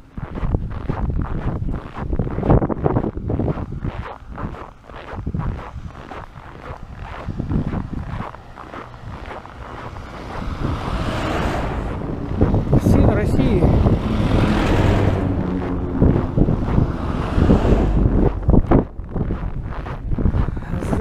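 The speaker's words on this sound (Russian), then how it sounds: "а тут ветер" Heavy gusts buffet the microphone in uneven bursts, with a rumbling roar rising and falling throughout and some voices mixed in.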